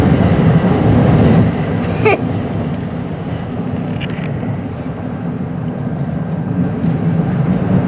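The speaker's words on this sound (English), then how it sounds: "Grand finale of trains," Steady low rumble of a Metro-North Railroad train rolling past, loud and continuous throughout, with a couple of brief high squeals from the wheels or brakes.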